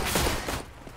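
A short burst of gunfire in Counter-Strike on the de_train map during a professional ESL Pro League match, heard as dense, rapid shots that fade after about half a second.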